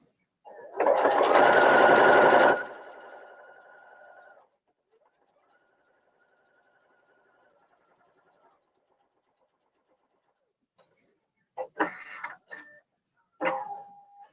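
A sewing machine stitches a child's clear vinyl tote bag in one loud close burst that fades into a soft hum. Later come a few short knocks and clicks.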